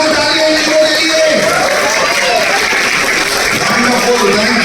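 Audience applause fills the space in a steady, dense wash of clapping from a crowd, loud and continuous throughout, with voices mixed in beneath.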